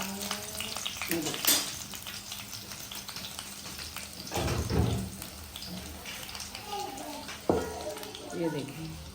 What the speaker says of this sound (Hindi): अब मैं इसमें रखूँगी कोयला।